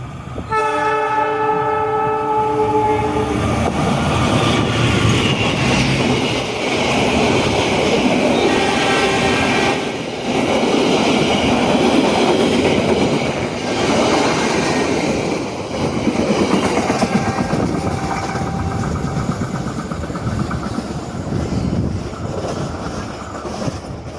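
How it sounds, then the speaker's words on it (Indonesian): The Argo Wilis passenger train passes straight through Manonjaya station without stopping. A loud horn blast opens the pass, followed by a sustained roar of wheels and carriages rumbling past at close range. "Kereta api Serayu akan diberangkatkan kembali setelah kereta api Argo Wilis melintas"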